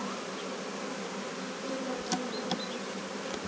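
A crowd of honeybees buzzes continuously around an open hive during a box change, a dense, close hum with individual bees flitting past, and no voices.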